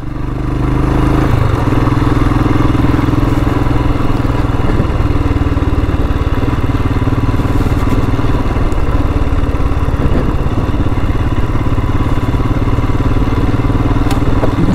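Royal Enfield Himalayan motorcycle cruising along a gravel forest road, its engine thumping steadily and loud up close, with crunching, clattering tire noise mixed in throughout and no talking.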